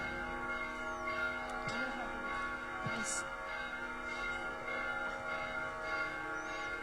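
A church bell rings faintly in the distance with slow, resonant strokes under a steady room hum, no clear voices.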